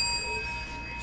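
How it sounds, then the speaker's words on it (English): A single bell rings during a sports trading card box break, its clear tones sustaining steadily and slowly fading over about a second. "Bell."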